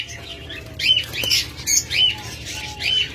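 Diamond doves and other pet birds, such as lovebirds, budgerigars and cockatiels, squawk and chirp in a bird shop. Short, shrill calls come in several bursts over a low, steady background hum, with a brief flutter of wings.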